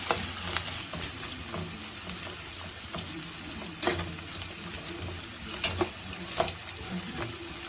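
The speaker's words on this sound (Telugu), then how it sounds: "ఆనియన్స్ అన్నీ కూడాను బ్రౌన్ షేడ్ వచ్చే వరకు వేపుకుందాం ఫ్రెండ్స్" Thinly sliced onions fry in a pan for prawn fry biryani, a steady close sizzle broken by occasional sharp scrapes and clacks of a spoon stirring against the vessel.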